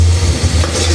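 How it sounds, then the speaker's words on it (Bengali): Spice paste with ginger is being fried in a pan for a fish-head lentil dish, a brief close burst of sizzling and stirring over a low steady hum. "তারপর আমি ভালো করে মশলাটা কষিয়ে নেব"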